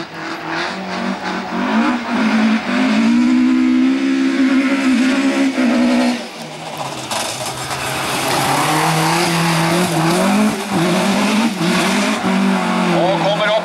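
A Ford Fiesta rallycross car races at a hillclimb in Vikersund, its engine loud and close, revving hard and falling away then climbing again, with a commentator talking over it.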